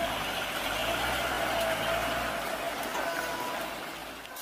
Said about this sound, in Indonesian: Truk oren dump truk